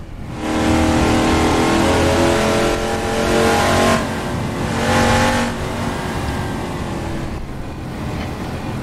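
A GMC Vandura 1500 truck driven in the Assetto Corsa racing game: a loud, continuous engine drone that revs up and down through several gear changes, with no talking.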